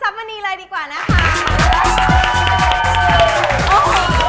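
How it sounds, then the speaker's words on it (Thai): Loud audience applause and cheering from a studio crowd at a Thai talk show, welcoming a guest onto the stage, steady dense clapping with music underneath after a brief spoken introduction. "ขอเสียงปรบมือต้อน รับคุณท็อปณัฐเศรษฐ์พูนทรัพย์มณีเลยดีกว่านะคะ"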